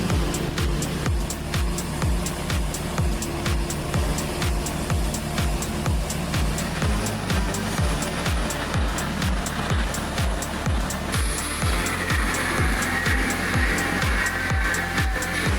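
A powerful crane hoists a 143,000-pound cable reel in a large space, its engine roaring loud and steady with a strong rhythmic low throb that holds throughout.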